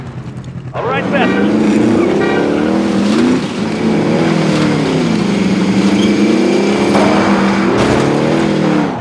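Vehicle driving in the battle-royale game Call of Duty: Modern Warfare Warzone, a steady engine drone with rising and falling revs that holds loud for most of the stretch, with game sounds around it.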